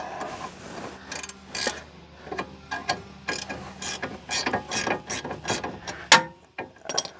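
A ratchet clicks repeatedly in short bursts while turning a nut during reassembly of a Daihatsu Charade car, close and loud, with brief pauses between strokes and no talking.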